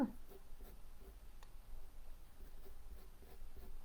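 Soft, repeated scratching strokes of an HB pencil shading on paper for a portrait drawing, faint and close, in a steady back-and-forth rhythm with no voices.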